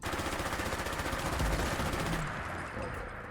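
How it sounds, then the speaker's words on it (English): Rapid full-auto bursts from a Remington ACR rifle in the game Fallout 4, the shots running together in a dense, loud, unbroken string that ends after about two seconds, leaving a short tail. "it's going to be hard to count the full auto, so we'll just count magazines"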